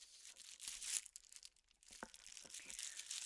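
Scissors cut and tear open a crinkly plastic bag of biscuits, giving a close, quiet run of crackling and rustling with a few sharp snips and no talking.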